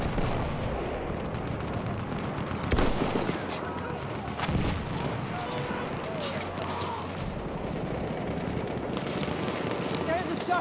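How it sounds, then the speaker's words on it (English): Enemy machine gun fire in Battlefield 1 amid a chaotic battlefield: continuous rattling gunfire with two sharp, louder blasts early on, layered over a dense wartime din with voices calling out in the mix. "Enemy machine gun over there!"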